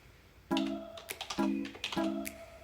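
A terminal command is typed on a keyboard in short bursts of close key taps, with three clusters of clicks separated by brief pauses.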